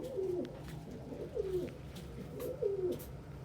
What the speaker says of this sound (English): Birds are getting more active